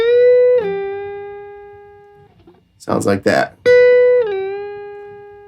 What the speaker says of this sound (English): we're gonna bend, and we're gonna hold that bend